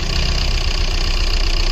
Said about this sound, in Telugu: సో ఫస్ట్ ఇంజిన్ స్టార్ట్ చేయాలి.